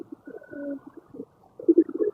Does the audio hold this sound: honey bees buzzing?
no